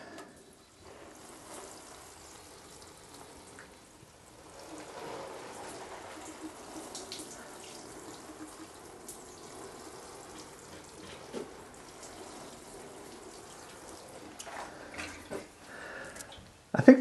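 Water sprinkled into a small seed trench in a greenhouse, a soft, continuous trickle and patter of drops on soil, faint and steady with a few louder splashes toward the end.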